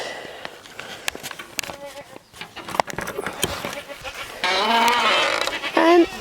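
Goats on a small farm fed on garden plants and hay bleat in several wavering calls, loudest in a sustained cry near the end, over background noise and scattered clicks.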